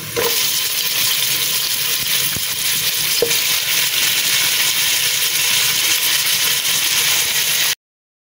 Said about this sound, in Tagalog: So, igigisa natin siya ngayon dito.